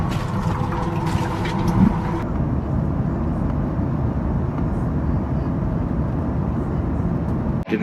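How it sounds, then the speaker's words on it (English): Steady, loud airplane cabin drone in flight, a dense low roar that holds constant throughout, with a brief bit of clatter near the start. "I'm on the airplane right now."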